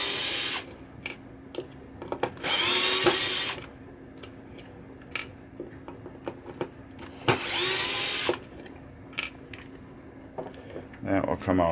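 Power drill backing screws out of a 1967 Williams Blast Off pinball flipper assembly, two bright bursts of a few seconds each with small mechanical clicks and handling noise between them.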